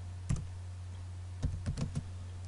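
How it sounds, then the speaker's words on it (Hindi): Computer keyboard keys and mouse clicks during a right-click copy and Ctrl+C shortcut in AutoCAD Electrical 2015: one click, then a short burst of four or five quick taps, close and fairly quiet over a steady low hum. "राइट क्लिक करता हूँ कॉपी कंट्रोल सी"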